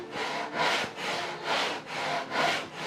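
A hand saw with crosscut teeth cuts through wood during a door restoration, with about five steady, rhythmic rasping strokes heard up close and alone.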